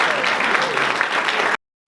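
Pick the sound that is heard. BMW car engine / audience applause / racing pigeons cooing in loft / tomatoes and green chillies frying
audience applause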